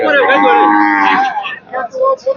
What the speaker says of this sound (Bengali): আমার ফার্মে এখন দশটা গাভি আছে